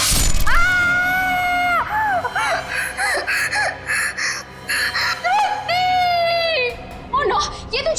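A woman screams and wails in distress, with long, high, sustained cries that break into sobbing gasps and then rise again, loud and close, in a dramatic TV-serial scene.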